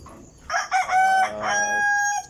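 A backyard rooster gives one loud, close crow that rises and holds for about two seconds, with chickens around it and no talking.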